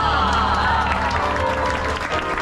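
An audience claps and cheers after the Beauty and the Beast stage show at Disneyland, a dense, sustained burst of applause filling the space.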